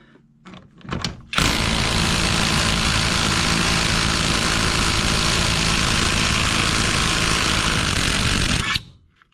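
An AOBEN 1/2 inch cordless impact wrench hammers loud and close in one sustained burst of about seven seconds, then cuts off abruptly as its brake stops the spin.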